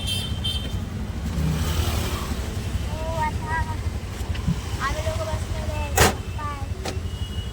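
A steady, close motor drone of an auto rickshaw engine rattles on throughout, with faint traffic and brief high chirps over it, in Chembur.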